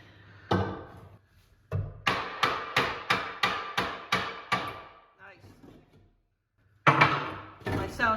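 A hammer strikes repeatedly while a cocktail cabinet is ripped out, a rapid run of about eight loud, evenly spaced blows, then a pause and more heavy knocks, with people talking at times.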